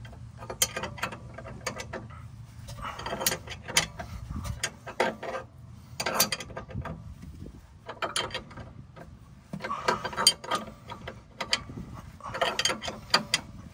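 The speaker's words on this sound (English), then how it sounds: "I flipped the wrench around, it's actually easier." A ratchet wrench clicks in quick bursts while turning a body mount bolt on a 2004 Range Rover HSE L322 with the BMW 4.4L engine, the rapid pawl ticks coming in repeated strokes separated by short pauses.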